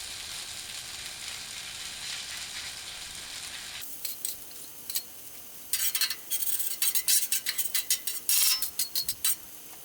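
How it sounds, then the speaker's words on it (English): Hash browns sizzling on a 28-inch Blackstone griddle, a steady close hiss of frying that later gives way to quick scraping spatula strokes against the metal plate. "hear that sizzle, that's the grill talking to you."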